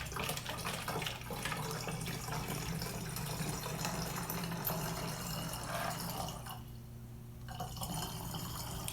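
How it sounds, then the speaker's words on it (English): Bleach-water solution poured slowly into a bottle, a continuous close trickling and splashing of liquid that briefly thins toward the end before resuming. "Pour slowly and carefully."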